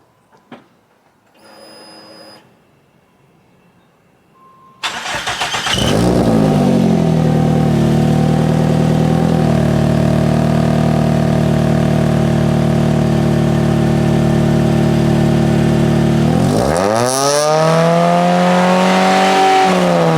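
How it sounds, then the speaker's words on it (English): A Nissan B15 Sentra Spec V with an aftermarket exhaust: faint clicks, then the engine cranks and catches into a loud, steady idle, followed near the end by a sharp rev that rises and falls. "I'm going to do one last startup and one more last rev"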